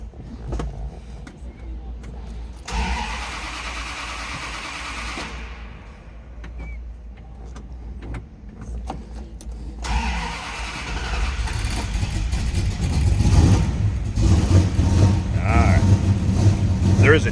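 A 1969 Dodge Charger engine cranks and catches, then settles into a rough idle that grows louder and rumbles steadily, with someone talking briefly near the start.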